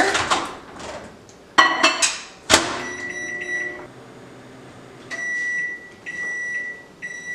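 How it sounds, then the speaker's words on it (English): A microwave hums steadily while a few clattering knocks ring out, then it beeps in short electronic bursts near the end. "I'm gonna put this in the microwave for 90 seconds."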